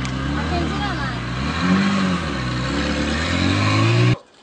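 A car drives close by on a street, its engine rising steadily in pitch and loudness as it nears, then cutting off abruptly at the end, with voices underneath.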